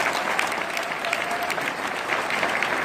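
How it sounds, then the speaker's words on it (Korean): A crowd at a network-marketing seminar in an Incheon hotel gives a round of applause, thick continuous clapping from many people, loud and steady throughout. "박수 한번 주세요."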